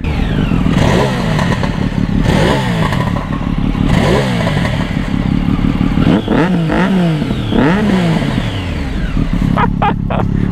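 Motorcycle engine on a Triumph Daytona running with a ticking rattle resonating in the catalytic converter, loud and close, with rising and falling revs and a rough, clattering texture throughout.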